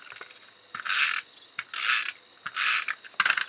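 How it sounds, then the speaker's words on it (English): A craft paper trimmer slicing a 4.5 cm strip of designer series paper, heard as four short, fairly quiet rasping cuts close by, with brief clicks between them and no talk. "I'm going to very quickly trim a second piece of DSP"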